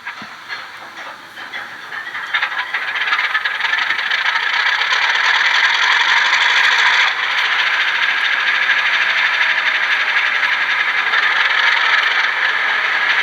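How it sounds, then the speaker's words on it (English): Startup sequence from a Rapido RS 11 model diesel locomotive, a sound effect recorded from a real operating RS 11: a rising mechanical hiss and clatter that builds, then settles into a steady, loud running roar. "that's Rapido's own sort of proprietary sound effect they physically captured from an actual operating RS 11"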